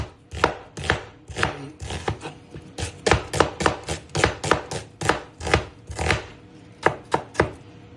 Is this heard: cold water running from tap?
no